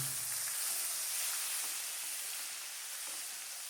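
Ground onion paste hits hot oil seasoned with whole spices and cardamom, setting off a soft, steady sizzle and hiss that fades slightly toward the end, with no talking.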